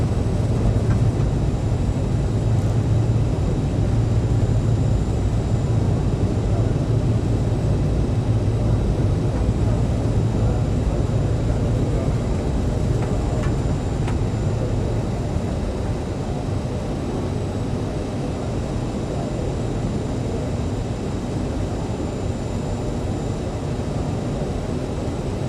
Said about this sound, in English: The APU should already be running